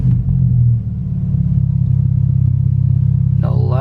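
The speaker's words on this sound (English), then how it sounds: "Go ahead and start the car." BMW F30 engine starting, a heavy low rumble that settles into a steady, fairly loud idle close by, with a brief voice near the end.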